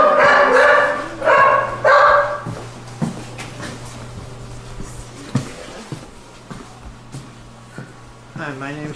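A dog barks several times at the start, loud and close, then quieter yips and thuds follow amid people talking and a steady hum during a stray dog rescue in Detroit.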